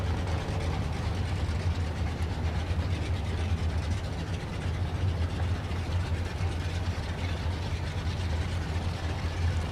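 A naturally aspirated big-block Chevelle drag car runs down the right lane at Texas Motorplex in Ennis, a loud, steady engine roar that holds constant throughout with no talk.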